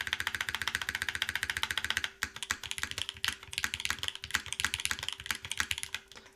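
Typing on an Eden mechanical keyboard with Cherry switches, top-mount build: a steady run of close, crisp keystrokes with a fairly deep tone, alone with no voices.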